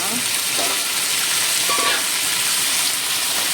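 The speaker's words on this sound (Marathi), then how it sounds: "आतां हितून हांव हे पोटेटोज उडयता" Potatoes dropped into a hot pan for a Goan green peas bhaji set off a loud, steady hiss of frying, with a couple of soft clinks partway through and a faint voice in the background.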